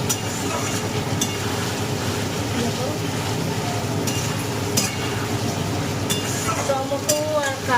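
A tomato and green chili paste is stirred and sautéed with fried potatoes in a pan, giving a steady sizzle with intermittent scraping stirs and a few sharp clinks against the pan.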